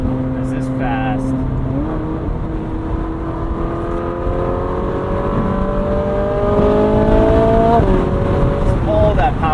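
A Ferrari 458 Spider's naturally aspirated V8 revs up through the gears, its loud, close engine note climbing in pitch with a brief dip at each shift, and a voice talks over it.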